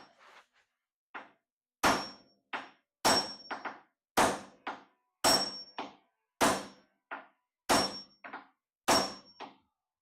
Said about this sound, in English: Should probably use the other hammer if I'm whacking that close to my face with a hatchet.